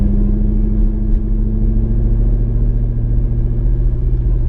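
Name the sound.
car driving up a hill in second gear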